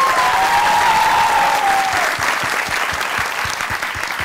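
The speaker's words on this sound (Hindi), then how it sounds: "तालियां बजाइए इनके लिए।" A studio audience at a Pakistani comedy talk show breaks into loud, sustained applause. A brief whistling tone sounds over the first two seconds, and the clapping thins slightly toward the end.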